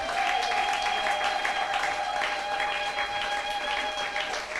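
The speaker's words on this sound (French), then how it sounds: "On acclame le Seigneur pour sa parole." A church congregation applauds in a steady, continuous round of clapping with a faint tonal hum from music or the sound system underneath.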